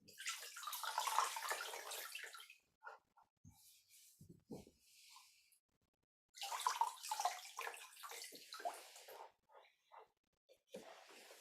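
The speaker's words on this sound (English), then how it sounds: "So let's wash our feet with the water." Feet being washed in a basin of water after a foot soak, with soft splashing and sloshing in two bursts separated by quieter drips and trickles, faint and close.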